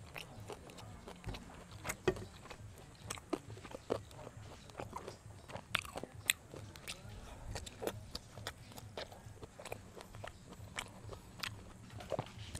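Close, faint biting and chewing on grilled chicken inasal feet at a mukbang, with irregular crunchy bites and snaps scattered over a quiet background.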